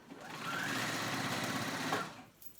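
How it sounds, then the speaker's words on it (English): A sewing machine runs one continuous top-stitching burst on a jacket that converts into a backpack, a steady close whirr of about a second and a half before it slows and stops. "I'm going to sew it on, do a top stitch on."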